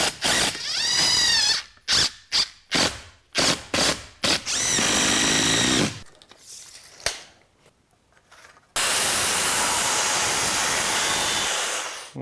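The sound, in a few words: power drill driving screws into scrap wood workbench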